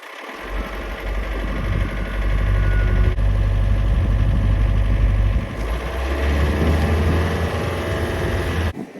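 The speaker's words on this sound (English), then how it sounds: "when I start up that compressor" Air compressor running steadily to push air through orchard irrigation lines, a loud continuous low mechanical drone with engine-like throb that holds for the whole stretch, dipping briefly midway, no talking.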